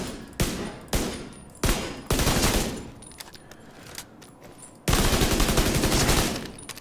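Automatic rifle fire in the video game The Division 2, heard as several short bursts and then a longer sustained stream of rapid loud shots, with no talking.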